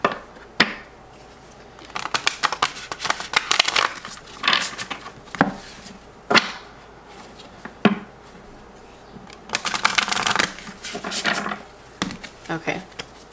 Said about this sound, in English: I'm going to split this in half because these cards are really thick.